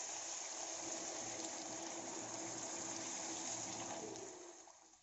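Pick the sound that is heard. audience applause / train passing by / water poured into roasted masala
water poured into roasted masala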